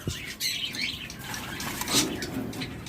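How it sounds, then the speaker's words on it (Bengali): A pair of pineapple conure parrots give shrill, close squawks and chirps, a few harsh calls scattered across a few seconds. "এরপর আমাদের কাছে রয়েছে চমৎকার এক জোড়া পাইনাপেল কোনোর"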